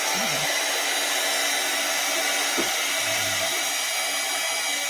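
Heat gun drying mixed media art boards, a constant loud whooshing blower hum running uninterrupted and alone throughout.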